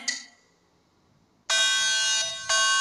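A loud, steady electronic alarm from the video game Five Nights at Freddy's: Sister Location cuts in abruptly after a faint opening sound, holds for about a second, then restarts with another sharp onset.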